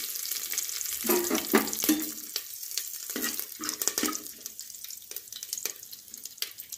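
Curry leaves with mustard seeds and cumin sizzle and crackle in hot oil in a pan while being stirred, producing bursts of spitting and scraping with a soft steady fry underneath and no talking.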